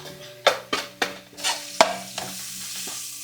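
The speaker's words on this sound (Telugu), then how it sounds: "వేగుతున్న ఉల్లిపాయల్లో ఫ్రెష్ కొత్తిమీర, పుదీనా వేసుకోండి." Onions fry in a pan with fresh coriander and mint added for prawn biryani, a spatula scraping and knocking in several sharp strokes over a continuous sizzle that thins toward the end.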